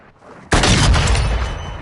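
A sniper rifle shot in the video game Modern Warfare 2: one sudden loud blast after a quiet moment, with a long booming tail that stays strong to the end.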